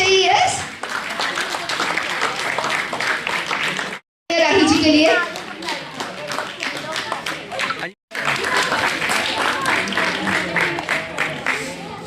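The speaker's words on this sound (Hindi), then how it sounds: "डॉक्टर साहब के लिए भी तालियां आनी" An audience claps for the doctor at a school prize event, a dense patter of many hands mixed with voices and children's chatter. The sound is near and steady, with two brief dropouts to silence.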